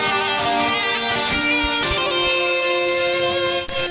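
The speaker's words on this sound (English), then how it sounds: "But we have a brass playing the second voice together with that guitar." Brass and guitar play a sustained two-part harmony line together in a metal cover arrangement, dense and loud throughout with no talking.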